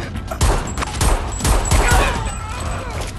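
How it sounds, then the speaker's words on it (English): Rapid, uneven bursts of blind gunfire from a firefight in the shooter game Homefront: The Revolution, several sharp shots cracking close together over a noisy battle backdrop. "I need to stop this blind firing."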